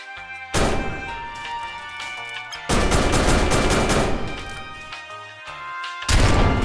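Rapid gunfire from weapons in a mobile sandbox game replicating People Playground, coming in loud dense bursts with short gaps between, up close and without talk.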